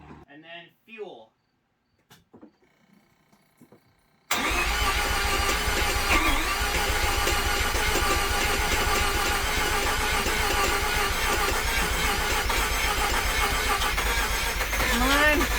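A project car's engine cranks and tries to start, a loud steady churning roar that kicks in abruptly and holds to the end, following a few seconds of quiet speech and soft clicks.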